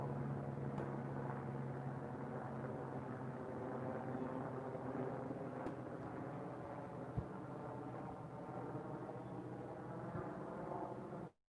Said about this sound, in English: now the helicopter's back over me